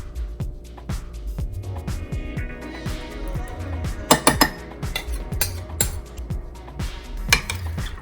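A corn and bean salad is tossed with vinaigrette in a bowl, giving steady scraping and frequent clinks of utensils against the bowl with a few louder knocks, close and continuous, with no talking.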